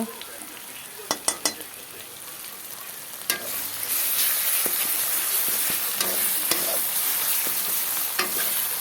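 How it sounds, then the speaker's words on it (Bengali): Onions frying in oil in a pan before fish curry with tomato and potato, a continuous close sizzle with several sharp stirring scrapes and clicks of a spatula, swelling louder partway through. "তেলের মধ্যে পেঁয়াজ দেওয়া হয়েছে"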